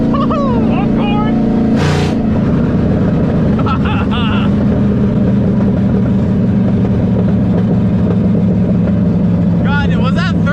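An LS-swapped Foxbody car accelerates hard, its engine droning loud and constant from inside the cabin, the pitch climbing slowly through a gear with chirps and rattles over it, while people talk.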